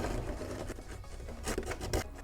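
A rasp scrapes steadily across a Boba Fett jet pack part in repeated rough back-and-forth strokes, close and fairly quiet, with no talking.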